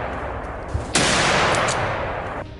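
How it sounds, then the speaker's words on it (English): A rapid burst of gunfire during a wild boar hunt cracks out loud and close after a brief quiet lead-in, a dense crackling volley that fades over the following second and a half. "a rapid burst of gunfire erupts, taking down the two fattest beasts."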